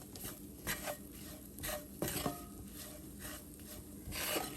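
Chicken and turmeric powder being stirred in a pan, quiet scraping and rubbing strokes in an irregular rhythm with soft clinks, close and faint, with no talk.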